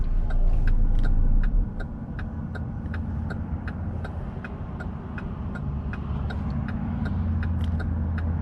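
A 2022 GMC Terrain SLT on the road gives a steady, close interior rumble of engine and tyre noise, with a faint, regular ticking running throughout.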